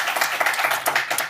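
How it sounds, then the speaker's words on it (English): Brief clapping from a small audience, dense and fairly close, a quick patter of hands lasting about a second with no talking over it. "Give a round of applause."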